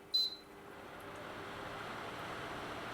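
A portable water-cooled evaporative air cooler gives a short beep, then its fan blows at a higher speed as a soft, steady whoosh heard from about a metre away.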